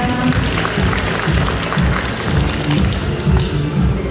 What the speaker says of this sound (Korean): 스님께 다시 한번 뜨거운 박수 부탁드립니다.